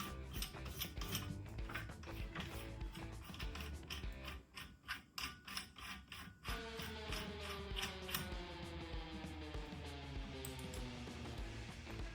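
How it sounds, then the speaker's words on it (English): A flat file grinding metal on an airsoft AK-105 part, giving faint, steady rasping strokes in a quick repeated rhythm, close to the microphone, with a brief pause before the scraping resumes. "You take a flat file and you grind it."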